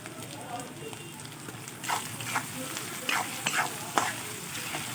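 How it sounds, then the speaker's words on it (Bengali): Banana flower and chickpeas fry in spices in a pan, a continuous close sizzle with stirring strokes and scrapes growing busier in the second half, no talk over it. "ভাজা ভাজা হয়ে গেছে মশলা দিয়ে ভেজে নিয়েছি"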